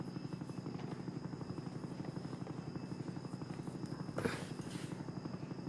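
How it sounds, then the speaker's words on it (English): A helicopter in the Roblox Jailbreak video game drones with a steady, continuous rotor buzz and a brief louder swell near the end, heard alone. "So you have to park the heli here and drop the rope."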